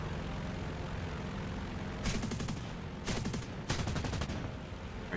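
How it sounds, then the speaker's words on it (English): Rapid bursts of aircraft cannon fire from a propeller hub cannon in the War Thunder video game, three short rattling volleys over a constant droning engine. "Look at those cannons. Got a propeller hub cannon over in the right engine."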